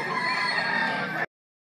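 A fighting rooster for sale at a gamecock market in Lipa, Batangas lets out a single loud, harsh crow, held steady for just over a second before cutting off abruptly.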